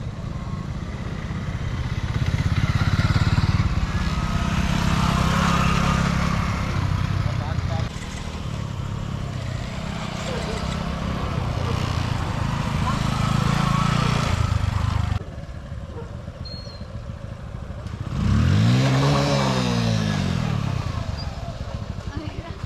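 A motorcycle engine runs during a beginner's first riding lesson, a steady idling rumble with rising revs before the ignition is switched off, under people talking nearby.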